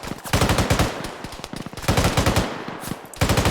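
Rapid gunfire in a team shooting training exercise, loud close bursts of automatic fire in quick strings separated by short gaps.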